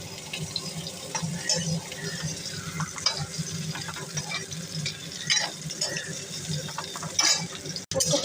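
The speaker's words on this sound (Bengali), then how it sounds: "এখানে আমি ফুলকপিটা ভাজছি" Cauliflower frying in hot oil in a home kitchen, a steady broad sizzle with occasional stirring clicks and scrapes, close and continuous without speech.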